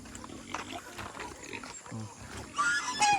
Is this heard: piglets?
yes